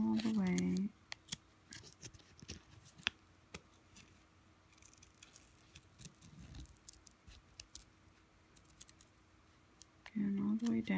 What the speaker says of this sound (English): Okay, so continue cutting